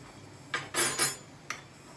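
A spoon clinking against a pot while curry chicken is tasted for salt: a few quick metallic taps and scrapes, close and fairly quiet, with no talk.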